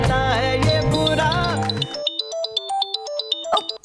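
A phone ringtone plays as a bright electronic melody of repeating beeping tones, entering over a sung song that cuts off midway, then continuing alone, clear and fairly loud.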